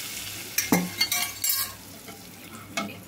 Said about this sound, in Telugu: ఈ తాలింపు మొత్తాన్ని పప్పులో వేసేసుకోవాలి